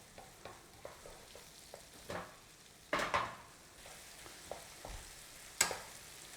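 Onions cooking in butter in a pan, with a quiet close-up sizzle and repeated scrapes and knocks of a utensil stirring against the pan, some louder clatters between softer strokes.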